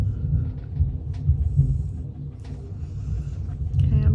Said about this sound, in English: oh, there goes the thunder